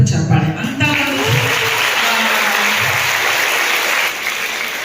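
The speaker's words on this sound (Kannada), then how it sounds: "ಒಂದು ಚಪ್ಪಾಳೆ" An audience at a world music school event claps in a sustained round of applause, steady and fairly loud, with a voice briefly heard over the start.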